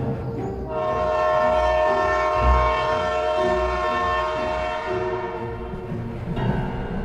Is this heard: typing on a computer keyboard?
no